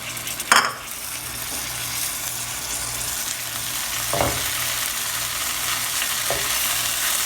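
Continuous frying sizzle as butternut squash taco filling is stirred in a pan, with a sharp utensil scrape early and occasional softer scrapes later.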